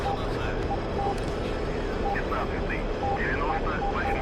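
Jet aircraft engine at minimum throttle in the DCS flight simulator, a steady, dense whine and roar with faint beeping tones over it, and a voice speaking throughout.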